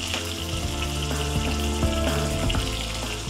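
Fenugreek and cumin seeds spluttering in hot oil for a tomato sweet corn chutney, a dense loud crackle with rapid pops over a continuous sizzle, no voices.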